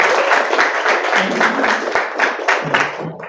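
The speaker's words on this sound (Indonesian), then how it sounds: "sekali lagi lah tepuk tangan untuk Barobik ya." An audience at an Islamic study session claps together in a loud, dense burst of applause that runs throughout and tapers off at the end.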